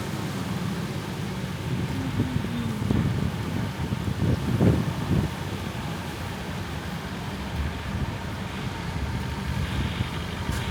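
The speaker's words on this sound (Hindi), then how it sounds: "आपने आवाज़ भी सुना कि हवा की आवाज़ कितनी ज़ोर से आ रही थी" Strong wind blowing hard outdoors in stormy weather, a loud continuous broadband rush with swelling gusts around the middle, no voices over it.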